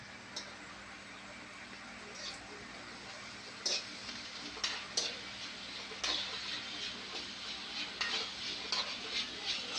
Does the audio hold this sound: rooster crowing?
no